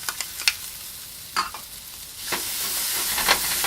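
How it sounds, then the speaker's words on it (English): Onions, tomatoes and browned potatoes sizzle steadily in a frying pan while a utensil scrapes and stirs through them, the close sizzle holding under a few sharp clicks against the pan. "Now you can stir it around a little."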